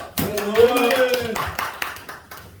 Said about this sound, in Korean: 우리 찬양 받아주신 하나님께 감사의 박수를 올립니다.